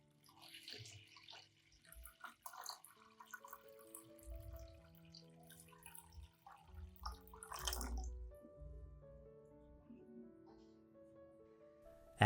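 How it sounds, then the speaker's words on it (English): Warm water runs and splashes into a plastic bowl for several seconds, with gurgling and clinks, growing louder before trailing off into quiet drips. "Add 1 liter of warm water."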